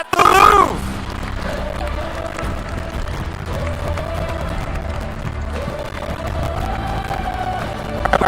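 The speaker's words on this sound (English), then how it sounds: "please give them a huge round of applause" A live conference audience at the Louvre breaks into a crowd roar and sustained applause after a voice on stage, with the clapping holding as a dense, steady wash over the rest of the stretch.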